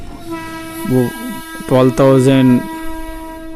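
A passing Alstom 12,000-horsepower electric goods locomotive sounds two loud, close horn blasts: a short one and then a longer, sustained one, over rail rumble, with people talking nearby.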